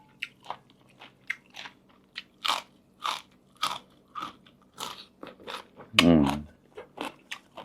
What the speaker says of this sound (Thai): มาเรามากินปลาทูกันเลยครับเนี่ยตัวใหญ่ๆแบบนี้เลยครับ